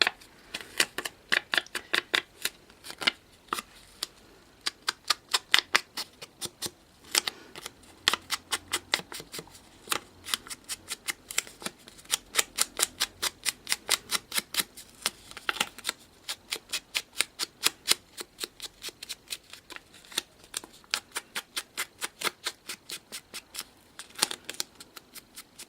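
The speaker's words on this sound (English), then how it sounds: "I just want to get that little sponge that I had and ink on the edges" A small sponge dabs ink onto the edges of a handmade christening card, a long run of quick, crisp tapping pats in close succession, faint and alone without talk.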